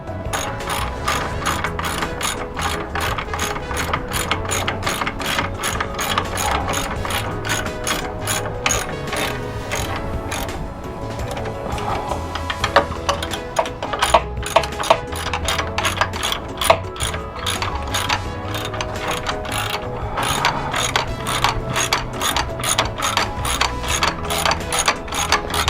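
Rapid ratchet clicking runs continuously and loudly while bolts are tightened on HMF heel guards fitted to a Yamaha YFZ450R quad, the fast rhythmic pawl ticks barely pausing.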